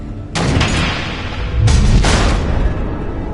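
Missiles exploding in Batman: The Enemy Within, two heavy booming blasts a second or so apart, loud and close with rumbling tails and no talk.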